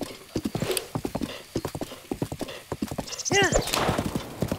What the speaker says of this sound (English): This horse is not behaving.